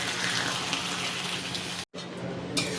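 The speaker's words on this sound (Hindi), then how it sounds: "अब इसमें पानी देंगे ताकि इसमें अंडा को डालकर उबाल ला सके।" Water is poured into a pan of fried potatoes before eggs are added for an egg curry, producing a loud, steady gushing flow that cuts off briefly near the end and then resumes, with no voices.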